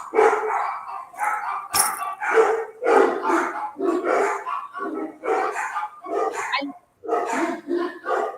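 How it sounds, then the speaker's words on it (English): Dogs bark over and over in quick, loud bursts, close by, with hardly a pause between barks. "I was just listening to the music of my barking dogs"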